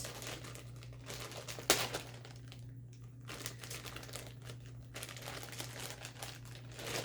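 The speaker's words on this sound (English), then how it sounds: "carefully try to cut the plastic to get her out" Plastic blister packaging around a Sword Art Online Asuna anime figure being cut open, giving soft crinkling and rustling close by, with one sharp snap early on and no talking.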